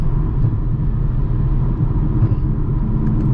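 A 2021 Mercedes-AMG GLA 35 SUV cruising at night in 8th gear on paddle shifters gives a loud, steady low engine and road drone heard from inside the cabin, unbroken throughout with no talk.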